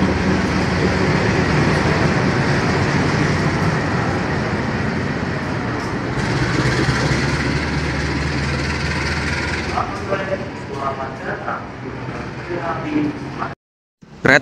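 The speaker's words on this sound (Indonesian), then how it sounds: "Lokomotif pulang tiba." A locomotive rumbles into an Indonesian railway station during the year-end holiday travel season, a loud sustained low drone with rattling that thins out near the end, with station sounds around it.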